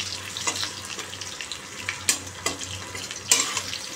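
Potatoes fry in a pan with a steady soft sizzle, broken by a few sharp stirring scrapes and clinks; low tonal hum runs underneath.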